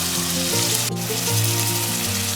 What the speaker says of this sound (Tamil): நம்ம ரெடி பண்ணி வச்சிருந்த ஜிஞ்சர் கார்லிக் ஆனியன் பேஸ்ட்டு சேர்த்தாச்சு. நல்லா வதக்கிடலாம் பச்சை வாசனை போக